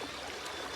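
River water rushing through a swollen stream at a riverside picnic in Nepal, a steady broadband flowing wash close to the listener with no pauses.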